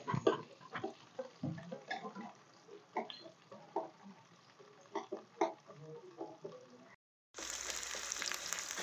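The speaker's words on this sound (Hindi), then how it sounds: "प्याज को भुनने देते हैं।" Onions and green chilies crackle and sizzle in a hot pan, with irregular popping and spitting sounds close by, then a louder, denser hiss at the end.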